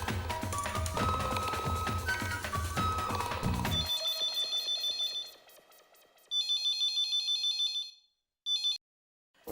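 A mobile phone ringtone plays in a household sitcom scene, first as a dense melodic tune and then as bright repeating electronic chirps in bursts with short gaps between them.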